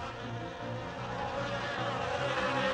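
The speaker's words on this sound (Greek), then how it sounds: "Μεγάλα σμήνη από δηλητηριώδεις μύγες μπήκαν στα σπίτια των Αιγυπτίων και στο παλάτι του Φαραώ" A dense swarm of poisonous flies drones in a steady, continuous buzz that stays close and fairly loud throughout, with no voices over it.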